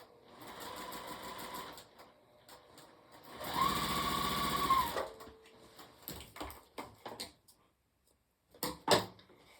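A sewing machine stitches curved quilt block pieces together, running in several short close bursts of rapid needle clatter separated by pauses, with faint handling clicks between runs.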